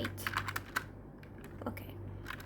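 Typing on a computer keyboard in a Linux terminal: a quick run of light, close key clicks, then a pause and a few more scattered taps over a low steady hum.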